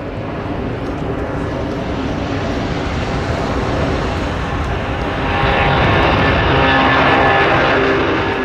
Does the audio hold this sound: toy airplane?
yes